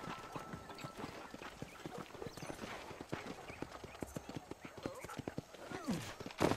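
A horse in the video game Red Dead Redemption trots with busy, close clip-clopping hooves throughout, then gives a sharp whinny near the end.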